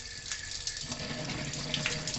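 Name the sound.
washing vegetables and ingredients under tap water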